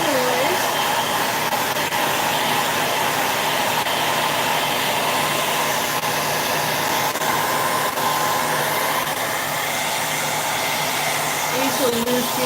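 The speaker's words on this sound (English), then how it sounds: "I usually lose people when I put the hairdryer on" A handheld hair dryer runs steadily on high heat to dry paint on wooden shelves made from old chairs, a loud, continuous whirring hiss that holds level from start to finish.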